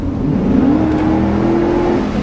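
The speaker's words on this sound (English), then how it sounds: "makes a great V8 noise" A Hummer H2 V8 engine revs up and holds a deep, rising drone, close and loud, a steady mechanical whir over about two seconds.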